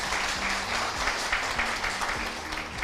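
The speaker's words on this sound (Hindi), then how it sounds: "उसके लिए एक जोरदार तालियां हो सकता है।" An audience at a talk about cancer applauds in a steady, dense wash of clapping that holds for the whole stretch, with faint voices murmuring underneath.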